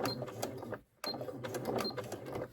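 A sewing machine stitches a handbag with a Santa face design, a close, steady rapid chatter of the needle that stops for a moment, then resumes at the same even pace.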